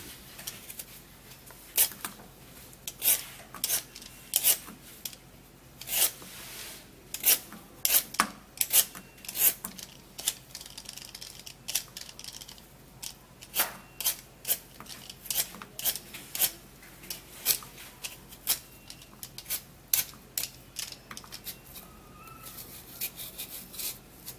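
A peeler scraping along a carrot in a kitchen, giving a long series of short, crisp rasping strokes with irregular spacing and quiet pauses between them, close and fairly soft with no talking.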